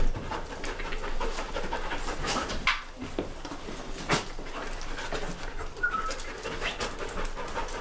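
A Belgian Malinois trained to detect bedbugs pants steadily and rhythmically close by, with quick repeated breaths and faint birdsong in the background.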